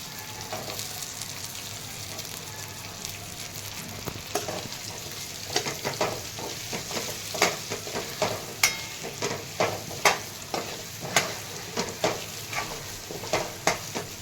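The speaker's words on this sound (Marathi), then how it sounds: "हे अशा तेलामध्ये छान अशा परतून घ्यायच्या फोडी" Stuffed ridge gourd pieces sizzle steadily in hot oil, with a rhythmic series of scraping stirs growing more regular toward the end.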